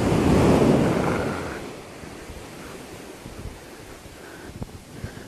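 Sea waves break and wash around a person standing in the sea, a loud rushing surge at first that fades into softer lapping water with gusts of wind buffeting the microphone.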